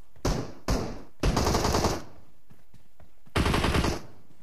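Gunfire in the mobile battle-royale game PUBG Mobile: several loud, close bursts of automatic fire, two short bursts followed by a longer sustained one, a pause, then another heavy burst, with no talk over them.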